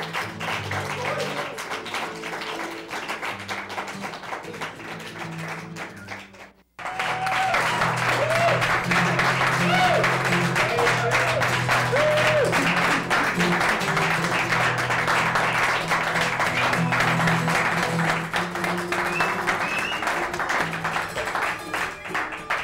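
Studio audience applause from a small public-access TV show, a dense steady wash of many hands clapping that fills the room, briefly dipping before swelling back loud and sustained, with faint voices underneath.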